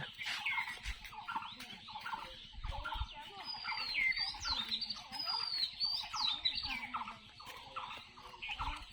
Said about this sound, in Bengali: পাখিরা তো কোলাহল করতেছে